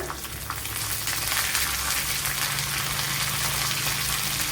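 Dried red chillies and curry leaves frying in hot oil, a steady loud sizzle and crackle that holds on without pause and without any talk.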